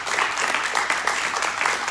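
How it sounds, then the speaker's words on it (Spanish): A church congregation applauds during a Spanish-language sermon, a steady, dense wash of clapping that stays fairly loud and close throughout, with no voices on top. "Denle un aplauso a Jesucristo."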